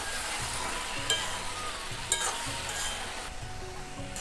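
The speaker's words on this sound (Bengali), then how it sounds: "আমি খুলে এবার একটু নেড়ে দেব।" Banana flower curry with prawns and potato being stirred in a pan, spoon scraping in a few distinct strokes over a soft steady sizzle, close and moderately loud.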